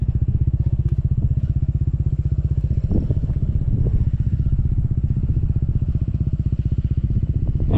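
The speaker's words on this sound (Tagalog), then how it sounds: "Ito nga pala yung mga motor na mga kasama natin." Several motorcycles and scooters, among them a Honda PCX, idle and ride together on a mountain road, with a steady throbbing engine pulse throughout, a few clattering thumps and brief revs mixed in, and no talking.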